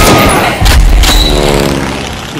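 Heavy gunfire and explosive booms from the WWH video game in a death match, loud and close, with a big blast early on and dense shooting that then trails off into a reverberating rumble.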